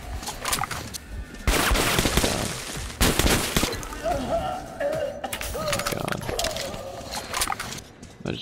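Rapid bursts of gunfire in the video game Metro: Last Light Redux, loud repeated shots in clusters with game sound effects between them.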